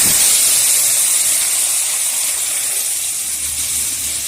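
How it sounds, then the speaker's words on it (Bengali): Boiled red lentils poured into hot mustard oil with fried dried red chillies burst into a loud, dense hiss that holds steady and fades only slightly over a few seconds, close up with no talking. "এইবার দিয়ে দেবো এর মধ্যে সিদ্ধ করে রাখা মুসুর ডাল।"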